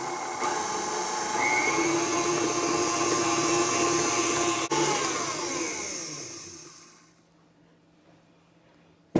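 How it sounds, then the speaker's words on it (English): Electric mixer creaming butter and cream cheese, a steady close motor whir with a slight pitch rise, running for about seven seconds before winding down and stopping, leaving quiet room tone. "Now we're going to mix it till it's light and fluffy"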